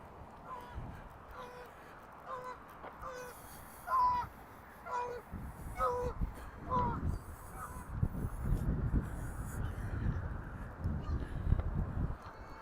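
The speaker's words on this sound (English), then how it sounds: "Geese in flight." Geese honking in flight over a lake on a chilly autumn walk, a series of distant calls heard faintly over steady wind and outdoor ambience.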